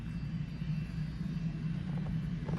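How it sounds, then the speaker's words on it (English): A large fire truck approaching, a deep continuous low rumble steady throughout, heavy enough to resemble an aircraft, with no horn or siren standing out. "It's a big ass fire truck coming."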